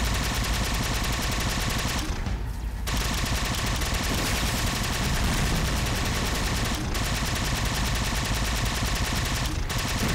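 Dense, continuous gunfire from a spread-shot weapon in the Halo game Spartan Ops, a loud unbroken rattle of rapid shots with brief dips in the barrage.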